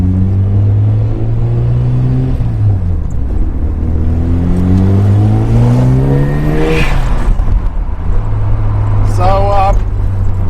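The rotary engine of a 1996 Mazda RX-7 FD3S with a FEED widebody kit and ported internals revs loudly and up close. The pitch rises and falls through several crisp sweeps over a constant drone.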